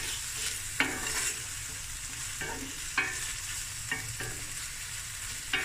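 Chicken and mushrooms with green chili sizzle in a pan, a steady frying hiss with several scraping stirs of a utensil against the pan at irregular intervals, no voices.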